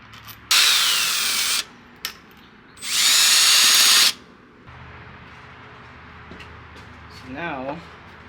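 An impact tool removes bolts from a Kawasaki ZX-6R 636 motorcycle being stripped for a stunt build: two loud, sustained bursts of power-tool whirring close up, with a short blip between them, then quiet workshop noise and faint talk.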